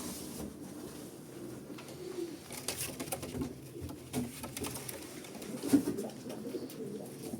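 Crested domestic pigeons cooing nearby, soft repeated low coos rising and falling over a faint background hum, with no talking.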